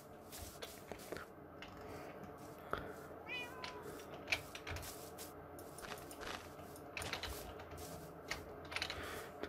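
A cat meows a few times in Minecraft, set against steady background game noise and clicking that sounds like a keyboard.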